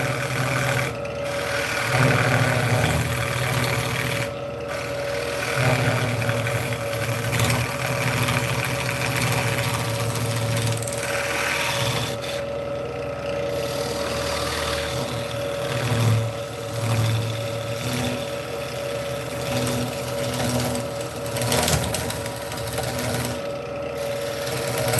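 A wood lathe hums and drones continuously while turning a tenon, a steady motor whine with rough rumbling and scraping of the tool against the spinning wood.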